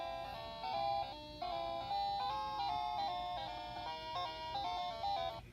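The Galaxian arcade game on a My Arcade tabletop unit plays its bright electronic melody at full volume, a quick chiming tune of stepping tones that continues steadily without any voices.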